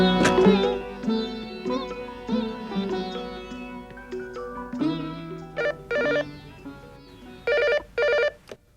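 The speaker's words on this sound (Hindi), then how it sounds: "शुभम, दीक्षा का नंबर तो मिलाना।" A telephone is dialed and then rings, with a backing melody early on and then repeated electronic ring bursts toward the end, clear and close with no talking.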